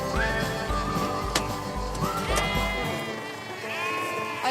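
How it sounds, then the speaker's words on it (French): Several sheep and lambs bleat in close succession, wavering calls overlapping one another at close range over steady farmyard background noise. "Allez, voilà alors tes moutons."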